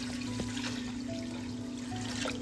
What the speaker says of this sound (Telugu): 1 బౌల్ రైస్కి 2 బౌల్ వాటర్ పోసేసుకోవాలి